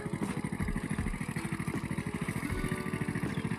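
A motorcycle hauling fodder home from the fields in the rain, its engine putting out a steady, close, rapid thumping pulse that runs throughout with no talk.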